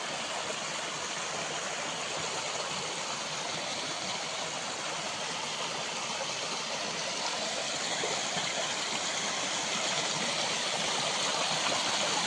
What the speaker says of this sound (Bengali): ওই দেখো খুব সুন্দর ঝর্ণা।